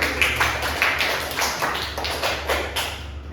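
Classroom applause during a microteaching session, a steady patter of many hands clapping together for a few seconds over a low background hum, fairly close and unbroken.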